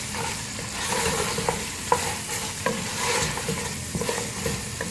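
Namkeen gosht stirred in a pot with julienned ginger, green chillies and fresh coriander, a steady sizzle and frying hiss broken by soft scraping strokes of the spoon, close and continuous, with no voices.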